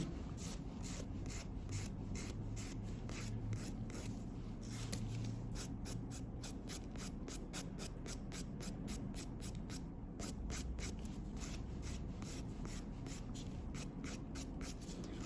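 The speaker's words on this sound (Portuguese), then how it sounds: "você pode vir com a sua mão bem levinha e lixar somente aonde você precisa terminar de tirar esse brilho" A nail file works lightly back and forth over a fibreglass nail to take off the surface shine, giving a steady, close, continuous scratchy rasp of quick even strokes with no pauses.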